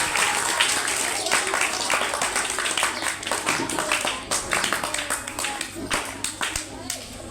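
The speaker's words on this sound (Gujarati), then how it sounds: "જોરદાર તાળીઓ" Loud, sustained applause from an audience at a school science quiz competition, steady clapping throughout with some children's voices mixed in.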